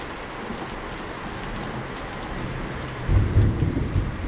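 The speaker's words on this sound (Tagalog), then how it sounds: "Ang lakas ng ulan mga katrop" Heavy rain hisses constantly during a power outage, with a deep rumble of thunder swelling near the end.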